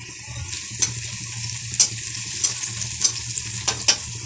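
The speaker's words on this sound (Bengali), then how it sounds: "পেঁয়াজটা আমার ভাজা হয়ে গেছে" Onions fry in oil with garlic and cinnamon, a low continuous sizzle broken by several sharp spoon scrapes and clinks at irregular intervals, close and alone.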